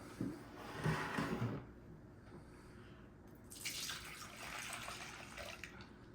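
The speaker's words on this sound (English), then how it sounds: "let's pour that in the bowl" Milk pours into a bowl in two short, soft splashing streams, separated by a quiet pause.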